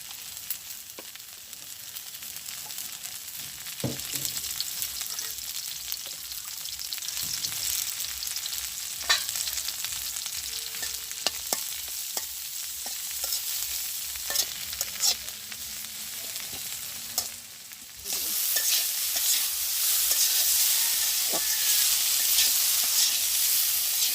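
Okra fries in a pan in a village kitchen with a steady, close sizzle, broken by scattered scraping stirs and clinks, and the hiss turns brighter and louder toward the end.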